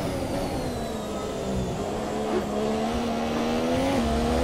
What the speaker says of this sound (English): pass by Hamilton immediately into the slipstream again